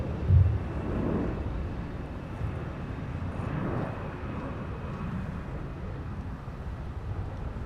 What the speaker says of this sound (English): So Delta 160 Heavy has already been cleared for departure on the south parallel runway